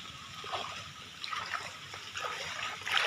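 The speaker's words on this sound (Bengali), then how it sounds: "পুকুরে যেতে গেলে আবার এরকম জল পাড়াতে হয়" Feet wade through shallow floodwater across a garden on the way to a pond, making soft sloshing and trickling splashes that stay fairly quiet and steady.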